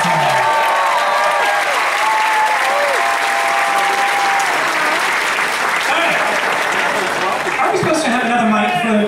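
Loud, sustained crowd applause at a live drag comedy game show, filling the whole stretch with cheering voices and whoops rising over the clapping.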